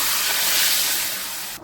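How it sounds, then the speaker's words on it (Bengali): Water poured onto hot spices in a pan for ghugni bursts into a loud, rushing steam hiss that fades slightly before cutting off, close and with no talking. "মশলার জন্য একটু জল দিয়ে দিচ্ছি।"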